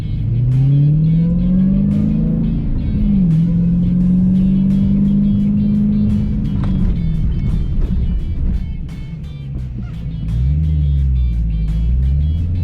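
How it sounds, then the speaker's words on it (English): Dodge race car on a track, the engine loud and close as it revs up through rising gear pulls, eases off, then winds back up near the end under hard braking and acceleration. "I just accelerate down towards the Christmas tree"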